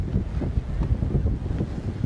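Strong gusty wind at a high school football field buffets the microphone with low rumbling, fluctuating bursts that rise and fall without a break.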